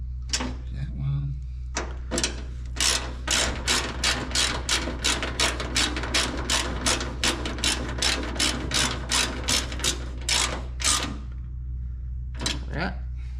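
Ratchet tightening jam nuts on the fender braces of a 1967-69 Camaro: loud, close bursts of rapid clicking in a steady back-and-forth rhythm, with a short pause and a brief voice near the start.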